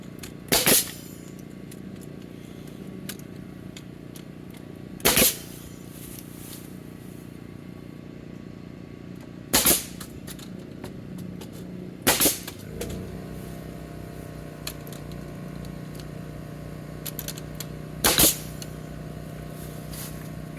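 A nail gun fires nails into subfloor framing for a tractor barn, five sharp, loud cracks spaced several seconds apart over a faint background hum, each shot distinct and close.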